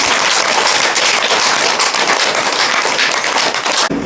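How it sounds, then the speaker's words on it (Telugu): Loud, dense applause from an audience gathered for a meditation campaign talk, continuous close clapping that fills the whole stretch before cutting off abruptly at the end. "మరొకసారి మీకు మీరు గట్టిగా క్లాప్"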